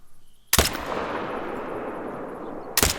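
A modern rifle fires two loud, sharp shots a couple of seconds apart in theHunter Call of the Wild, each crack trailing into a long rolling echo across open terrain.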